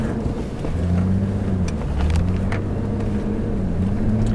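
A jeep on a desert safari near Abu Dhabi overtakes and accelerates, its engine droning loudly and steadily with a rising, shifting pitch amid wind rush, heard from close inside or beside the vehicle.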